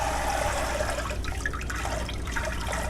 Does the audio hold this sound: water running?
yes